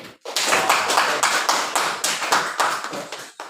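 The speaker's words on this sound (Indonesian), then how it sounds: "Tepuk tangan dulu." A group claps hands together in a quick, irregular burst lasting a few seconds, fairly close, without talking, in a classroom during a lesson.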